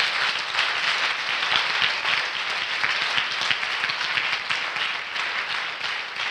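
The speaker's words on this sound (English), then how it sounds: "Clap for Jesus." A church congregation claps together in sustained, dense applause during a worship service, steady and fairly loud for the whole stretch with no voices standing out.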